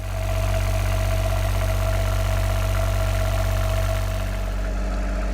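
A Volvo Penta D1-30 diesel engine in a small boat, running close by at a steady idle with a loud, even low rumble and a tonal hum, and no talk.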